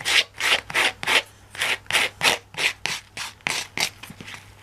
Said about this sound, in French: On peut faire ça avec la lime à ongles.